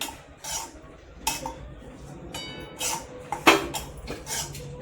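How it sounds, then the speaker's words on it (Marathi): Grated coconut roasting in a pan is stirred with a metal spoon, giving repeated scraping strokes and sharp clinks against the pan at an uneven pace. "आता आपण खोबरं भाजून घेऊ।"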